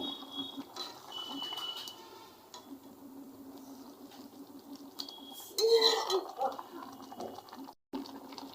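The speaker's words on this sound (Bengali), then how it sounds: "ডিমটা যখন একটু শক্ত হয়ে আসবে তখন আমরা এই খুন্তি দিয়ে একটু উল্টাই নিব" A metal spatula scrapes and clinks against a pan while an egg is flipped for a Bengali egg recipe. A short burst of clatter comes near the middle, over a soft kitchen background.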